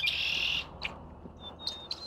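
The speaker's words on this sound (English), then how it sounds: "You hear the birds? They're singing." Birds sing outdoors, with a bright trilling burst first, then scattered short chirps and thin whistled notes, fairly close but soft against a quiet background.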